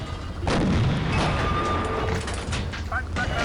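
Tank cannon fire in Panzer Elite, a loud booming blast opening after a brief pause, followed by a long rumbling decay with mechanical clanks and a faint tone; no talk.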